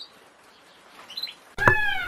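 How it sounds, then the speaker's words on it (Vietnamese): After a quiet lead-in, a canary bursts into song with a loud, clear, ringing trill near the microphone. "Canary."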